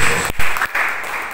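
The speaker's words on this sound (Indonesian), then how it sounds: "Tepuk tangan dulu." Brief, loud burst of congregational clapping at a church service, broken by short gaps, a close crowd of hands applauding.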